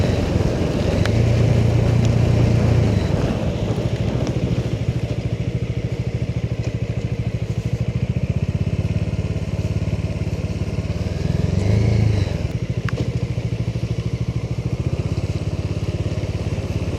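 A Bajaj Dominar 400 motorcycle rides steadily under engine braking, its low engine drone loud and close with constant wind rush and a brief rise in revs near the start.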